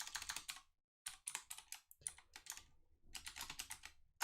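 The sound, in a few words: typing on a computer keyboard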